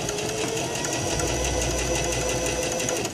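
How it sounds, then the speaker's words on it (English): A sewing machine runs steadily as it stitches fabric after the presser foot is lowered, giving a fast, even mechanical whir that stays close and continuous throughout with no talking. "we're going to lower the presser foot again and keep sewing."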